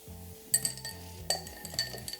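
A big ice cube goes into a glass of Maker's Mark for an Old Fashioned, giving two sharp glassy clinks followed by lighter rattling taps, close and clear with no talk.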